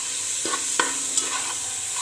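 Vegetables and spices for a pulao are stir-fried in a pan, giving a steady close sizzle with a few soft scraping stir strokes.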